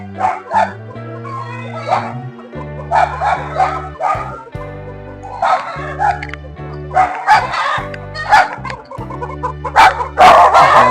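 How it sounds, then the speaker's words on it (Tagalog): Dogs bark and yip repeatedly while chickens cluck and crow, all close and loud, with a steady tonal hum running underneath throughout. "Manok, aso, may pato."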